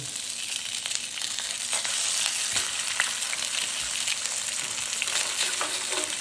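Food sizzles loudly and steadily in a hot pan after being flipped, a dense crackling hiss with scattered pops and a little scraping, close and continuous with no talking.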